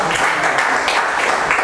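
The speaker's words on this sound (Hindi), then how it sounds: "तुम ताली बजाओ" Thick, sustained clapping from an audience at a Hindi poetry recitation, loud and even throughout with no speech on top.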